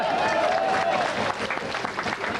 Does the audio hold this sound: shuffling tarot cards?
no